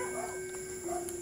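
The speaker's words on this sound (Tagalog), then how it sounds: "Daming aso dito doon sa malayo." Several dogs bark and yip far off in the dark, faint intermittent calls under a steady electronic hum and tonal whine close by.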